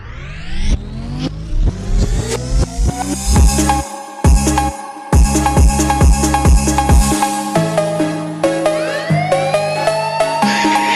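A rebuilt Honda XRM 125 FI motorcycle engine with a noise problem is revved up and down repeatedly, loud and close, with brief cutoffs between bursts before settling into a rougher idle.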